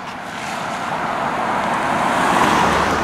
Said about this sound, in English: let's get an eye on this car coming by.